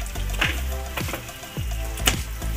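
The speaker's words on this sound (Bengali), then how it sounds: "ভালো করে কষিয়ে নেবেন যাতে মশলা থেকে তেলটা ছেড়ে দেয়" Masala spices for an egg curry fry in oil, a soft sizzle broken by several scraping stirs of a spatula against the pan, close and moderately loud with no talking.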